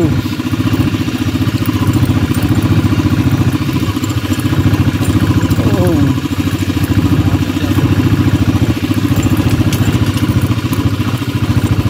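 A motorcycle engine runs steadily near a crowded hilltop Shiva temple festival at Kondaparva near Visannapeta, a constant low mechanical drone with clatter that stays loud throughout, with no talk over it.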